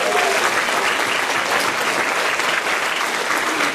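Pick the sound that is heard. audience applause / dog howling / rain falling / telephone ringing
audience applause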